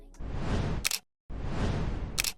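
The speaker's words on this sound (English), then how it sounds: "we've got these two whoosh effects and these two camera noises" Two airy whooshes, each finished by a crisp camera shutter click, separated by a short pause.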